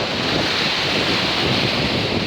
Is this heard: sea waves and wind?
yes